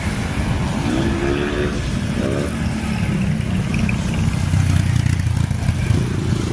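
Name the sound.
motorcycle passing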